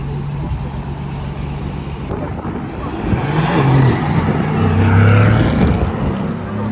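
Mercedes-AMG GT R Pro driving past, a steady engine drone that rises in volume toward the middle and then eases, with tonal exhaust notes under broadband road and wind noise.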